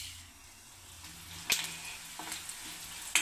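Coriander seeds roast in hot oil in a pan for a Marathi chutney, a soft steady sizzle with a few sharp scraping clicks of a spatula, close and fairly quiet, no voices.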